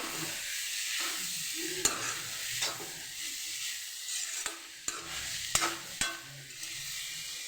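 Banana flower thoran tempering in a hot pan: a steady close sizzle of frying with repeated scraping and tapping stir strokes, a few sharper clicks near the end, no talking.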